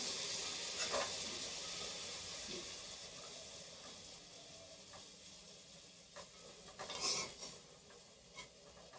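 Pitha frying in oil that has grown too hot, giving a steady broad sizzle and hiss with a few sharper spits and crackles near the end and no talk.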